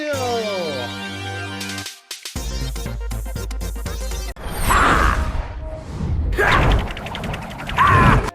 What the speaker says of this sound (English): Alright, let's spin the wheel!